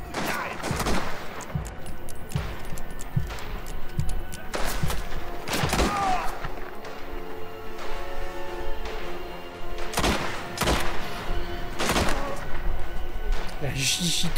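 Gunfire in the video game Mafia: The Old Country: repeated sharp, booming shots and short volleys at irregular intervals, heavy and close, over continuous game noise, with a voice speaking at times.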